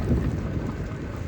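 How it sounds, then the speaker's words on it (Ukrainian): Gusty wind roars and buffets steadily, with a gritty patter of icy precipitation mixed in, loud and close. "Може і не чуть, тому що вітер і крупа."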